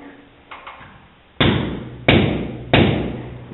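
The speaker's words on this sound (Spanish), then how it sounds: "Un par de golpes, con eso debería abrirse." A hammer knocks a wall anchor expander open: a couple of faint taps, then three loud, sharp metallic blows about a second apart, each ringing out briefly before the next.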